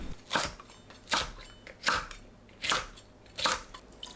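Knife chopping onion, red chili peppers and green chili peppers on a cutting board, five evenly spaced crisp thuds with quiet gaps between them.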